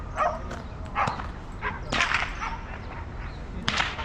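Sharp whip cracks ring out in an open city park in Calgary, several snapping strikes spaced irregularly over steady outdoor background noise, with a dog faintly audible nearby.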